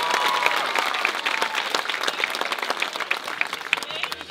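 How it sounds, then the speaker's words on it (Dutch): A crowd at a musical's closing show applauds a young performer, dense clapping with a few individual claps standing out, strong at the start and thinning slightly as it goes on. "Mag ik een applaus voor deze lieve jongen?"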